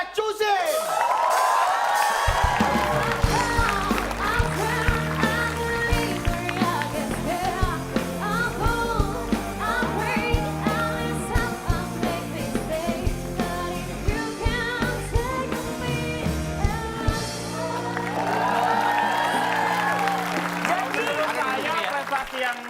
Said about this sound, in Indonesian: Tepuk tangan yang paling mulia dong buat Muhammad Adilamsyah Cusin.